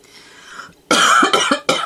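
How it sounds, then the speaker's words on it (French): A few harsh, loud coughs come in quick succession up close, after a faint breathy lead-in. "Il y a des moments où je tousse quasiment pas et là j'arrête pas"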